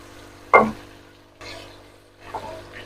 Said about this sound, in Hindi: टमाटर को भी हमने भून लिया